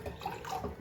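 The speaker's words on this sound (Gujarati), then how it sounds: "ખાણીમાં જ પાણી નાખીએ." Water poured into a Gujarati-style batter with ground ginger, a soft continuous trickle and slosh close by, steady and moderately quiet for under a second, with no talk.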